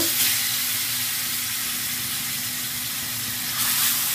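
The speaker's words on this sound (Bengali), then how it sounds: "তো এখন মাছগুলোকে আমি ভেজে নেব।" Fish frying in hot oil in a wok, a steady dense hiss and crackle holding evenly throughout, close and fairly loud, no talk.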